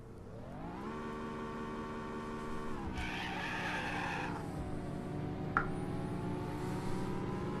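Racing cars in the 1995 Need for Speed video game hold a steady, rising engine drone, then break into a loud tyre skid squeal that lasts a few seconds, with a sharp knock near the end and no talk.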